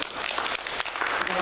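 A church congregation claps during a Sunday worship service, brief steady applause with a voice speaking over it.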